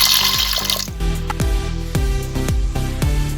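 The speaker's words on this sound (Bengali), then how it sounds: "এবার এতে জল দিয়ে দেব।" Water is poured onto about 100 grams of lentils for dal puri, a close steady splashing stream with a rhythmic series of gurgling pulses as the vessel fills.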